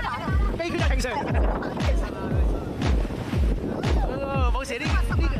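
A boat moves across open water on a summer outing, with a steady rhythmic low thumping and wind buffeting the microphone while people talk loudly throughout.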